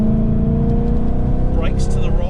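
A Ford Mustang GT accelerates under light throttle on a race track, its steady engine drone building beneath continuous in-car instructor talk.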